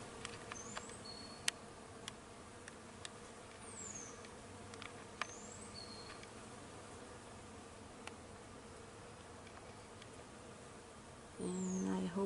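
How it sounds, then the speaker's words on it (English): Bees buzz softly among blooming cherry blossoms in a quiet garden. The faint, steady insect hum is dotted with distant bird chirps, and a louder rustle rises near the end. "Right there, and you can hear the bees."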